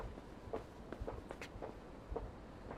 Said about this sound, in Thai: โอ้ เสียงคนเดินครับ